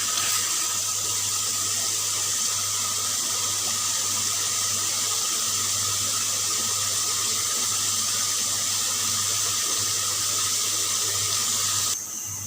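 Water in a cooking pot on the stove for a tori (ridge gourd) curry, coming to a boil with a steady, loud hissing bubbling that runs unbroken and cuts off near the end.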